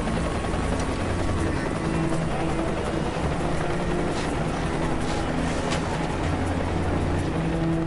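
Rescue helicopter hovering low over an icy river during a winter plane crash rescue, a loud, dense continuous rotor and engine roar with steady thumping, constant throughout with no talk.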